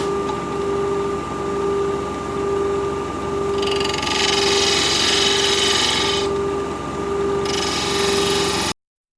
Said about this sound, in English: I went with sharpen up the spindle gouge